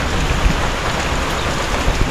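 Heavy rain pours down in a dense, steady hiss with scattered close drops hitting surfaces, loud and unbroken with no talking.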